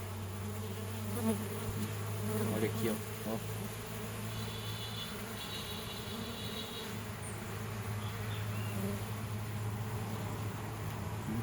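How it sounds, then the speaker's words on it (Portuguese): Honeybees arriving at a hive loaded with pollen make a steady, close insect buzz and hum throughout, with a brief spoken remark near the start. "As abelhas estão chegando carregadas de pólen"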